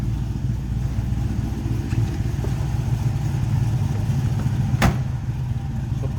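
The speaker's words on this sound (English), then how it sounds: "Dual exhaust, nice sounding 289. A little bump to it." A 1966 Ford Mustang coupe's 289 V8 idles through dual exhaust with a slight lope, a steady low rumble heard close from behind the car with no talking.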